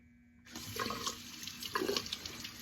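Warm water gushing from a bathroom tap during a shave, starting abruptly and running steadily with a close, hissing splash.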